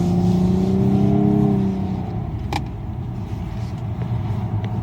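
A Nissan Maxima on a race track corner, its engine droning with a steady rising tone that eases off as the car settles, then continues as a lower rumble with road noise.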